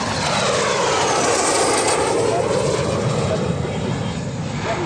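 A warbird at the EAA AirVenture airshow roars past near and loud, its broad engine drone sweeping steadily through the pass with no break.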